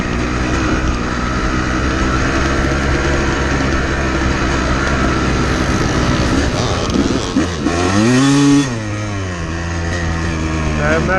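A dirt bike engine drones loudly and continuously while riding, holding a steady buzzing note before surging in pitch as the throttle opens and then easing back, with wind buffeting throughout.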